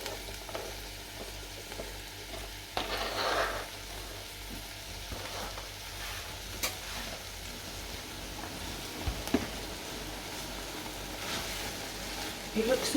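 Red cabbage sizzles and fries in butter in a pan while it is tossed round, giving a steady crackling hiss broken by a few louder stirring bursts.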